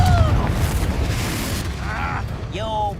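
Confringo spell explosion in the Hogwarts Legacy video game: a heavy, booming blast rolls into a sustained low rumble, with brief voices and effects layered on top.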